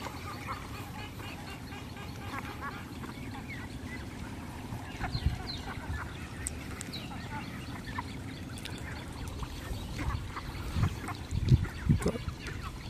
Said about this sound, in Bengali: আমাদের হাঁসগুলো একদম বড় বড় হয়ে গেছে।